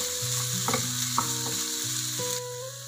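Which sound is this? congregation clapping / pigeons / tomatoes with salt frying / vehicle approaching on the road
tomatoes with salt frying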